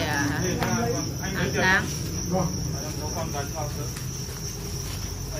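Crickets bred on a family cricket farm keep up dense, continuous high chirping, and someone speaks Vietnamese over it partway through.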